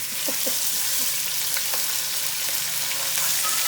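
Pad thai sizzles and fries in a wok, a steady loud hiss with occasional scraping stir strokes close by, no voices over it.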